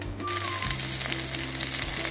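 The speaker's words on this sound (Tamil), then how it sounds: "நல்லெண்ணெய் கொஞ்சம் சூடானதும் இதில் சின்ன வெங்காயமும் பூண்டும் போட்டுடலாம்." Small onions and garlic fry in hot sesame oil for a kuzhambu, giving a continuous close crackling sizzle with faint clinks of utensils.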